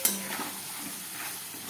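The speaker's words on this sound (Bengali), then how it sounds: "আর এই যে মাংস কষা হচ্ছে" Chicken sautéing in a pan for kosha gives a steady hiss and sizzle with a light clink of a utensil near the start, heard up close.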